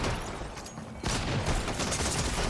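Rapid bursts of gunfire in a Fortnite Battle Royale match, dense and loud, briefly thinning near the one-second mark before a heavy volley resumes and continues to the end.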